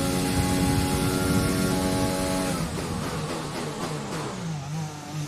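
Formula 1 car engine in the F1 2020 racing game at the Austria circuit, a loud sustained high-revving whine that drops as the car brakes, with gear shifts and revs rising again toward the end.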